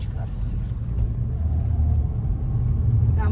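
A car gathering speed on a Sachkhere road during a driving-test route, a steady low engine rumble holding throughout under a voice.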